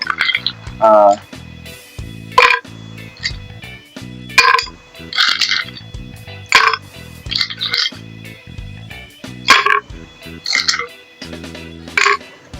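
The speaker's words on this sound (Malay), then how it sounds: "Sebelum tu, macam biasa kita isi ais dulu." Ice cubes clink and rattle into a cup for a cold drink in several bursts of bright knocks, close up, over an underlying bed of music.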